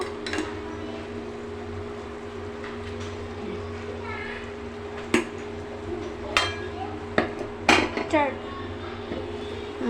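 A metal lid clanks down onto a pot of curry with bottle gourd, taro stolons and dried fish, giving a few sharp, ringing clinks over a steady low kitchen hum, with faint voices in the background.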